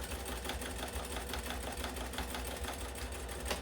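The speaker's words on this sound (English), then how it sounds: "You're going to back stitch at the beginning and the end." A sewing machine runs steadily through fabric while making a small chicken pattern weight, a continuous close mechanical whir with a faint rapid stitching patter and no talking.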